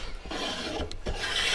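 Hand plane shaving a wooden board, a steady close rasping stroke with a couple of quick swishing passes, rough and continuous throughout.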